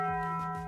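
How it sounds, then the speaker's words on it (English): A Taco Bell gong sound effect rings out as a single sustained metallic tone with steady harmonic partials, slowly fading over its brief length with no voices. "Taco Bell gong."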